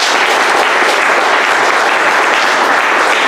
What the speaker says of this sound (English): please round of applause for Sergey.